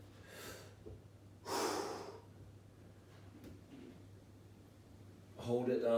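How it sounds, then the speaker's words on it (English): Deep, slow breaths are drawn in and let out during an upper and lower back mobility workout with hip openers, two or three audible inhales and exhales close to the mic over a faint steady hum. "Breathing deep."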